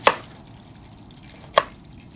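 A knife chopping garlic on a board for a chicken curd-chilli dish, two crisp isolated strikes well apart, close and clear against a quiet room.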